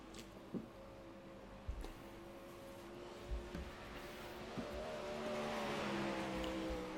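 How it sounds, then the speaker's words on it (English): A 360 sprint car engine rolls onto a speedway track for qualifying, a moderately distant droning roar that swells toward the end, with a few brief thumps along the way. "the last car rolling out onto the racetrack in car number 26,"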